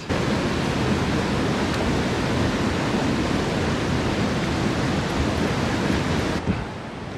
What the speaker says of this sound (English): Beautiful waterfalls just coming straight out of the rocks here.